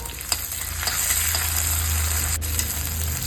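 Spice paste fried with onion and curry leaves in a pan for a spinach dish, heard as a close, steady, loud sizzle with occasional small pops and stirring sounds and a low continuous hum, with no talking.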